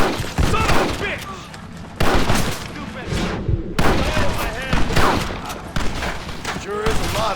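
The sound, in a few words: gunfire in Red Dead Redemption video game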